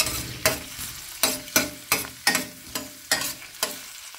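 Garlic frying in a hot pan heated to 220 degrees, with a sizzling bed broken by about nine sharp, regular stirring strokes and scrapes, close and fairly loud, no talking.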